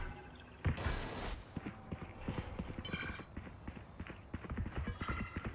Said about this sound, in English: Lots of footsteps?